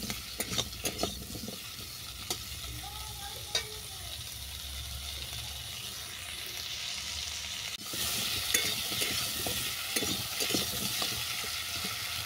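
Potato and cucumber pieces sizzle and fry steadily in a pan, stirred now and then with scraping clinks, the hiss growing brighter and louder in the second half as the frying intensifies.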